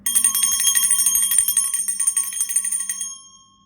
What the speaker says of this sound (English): Let me just ring a bell here.